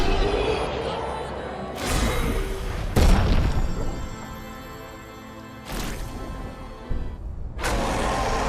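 Gunshots hitting an enemy in the turn-based battles of Clair Obscur: Expedition 33, several loud, sharp booming impacts spaced a second or more apart, each trailing off with a ringing decay over game music.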